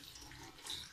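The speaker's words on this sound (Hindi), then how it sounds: "इस तरह पानी से हम इसको अच्छे से धो के स्ट्रॉबेरी को और इसको फिशर कर लेंगे।" Running water from a tap pours over strawberries in a sieve being washed, a faint steady splash for about a second, with no talking.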